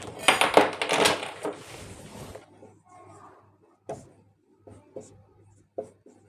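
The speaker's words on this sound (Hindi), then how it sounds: "पहले वो लिख लेते हैं।" Pen or chalk writing by hand during a geometry lesson on lines and angles: a dense scratchy burst of strokes, then quieter pauses broken by a few isolated taps and short marks, soft and close.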